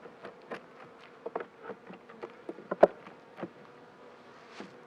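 Honey bees buzz around an opened beehive during an inspection at an apiary, a soft, continuous hum broken by brief louder passes and a few light knocks and scrapes from handling the hive frames.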